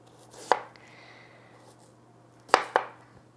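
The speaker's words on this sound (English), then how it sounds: "So I'm gonna do it thin, just a couple thin slices." A knife slices through yellow yam on a board: a single sharp cut, then two quick cuts close together after a pause, crisp and near against a faint steady hum.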